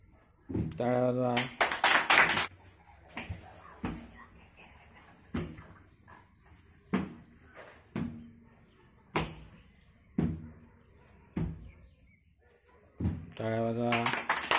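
Children playing a game clap in single, evenly spaced claps, sharp and fairly near, between stretches of quiet, with an adult voice at the start and end.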